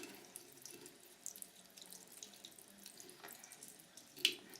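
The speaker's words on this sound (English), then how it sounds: "I'm going to rinse this just because this had so much color coming out of it." Tap water runs steadily into a sink as a makeup brush is rinsed beneath it, a soft continuous splash with small drips and one brief brighter splatter near the end, no voices.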